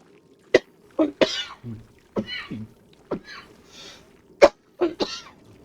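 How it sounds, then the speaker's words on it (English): A man coughs in a series of sharp, close bursts, about eight harsh hacks with brief throat-clearing between them, loud and dry in a quiet room with no speech over them. "Excuse me while I cough."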